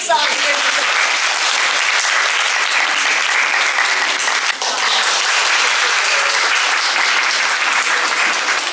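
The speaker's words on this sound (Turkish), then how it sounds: "Önce bir alkışlayalım." Loud, dense audience applause at an event on children's vaccination and women's and children's health, steady continuous clapping filling the whole stretch with only a brief dip midway.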